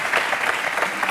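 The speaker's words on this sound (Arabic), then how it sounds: "تصفيق على باهي زردي" A studio audience claps loudly and steadily at a Tunisian contest as a winner is announced, a dense, even wash of applause close by with no voices over it.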